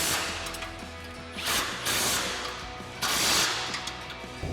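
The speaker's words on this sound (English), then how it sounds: "Now we're going to come in and tighten down our 3 16mm bolts and nuts with our 16mm wrench and" A ratchet wrench and socket tighten 16mm bolts on a front bumper being installed on a 2016-2023 Toyota Tacoma, close metallic clicking in repeated bursts of cranking strokes.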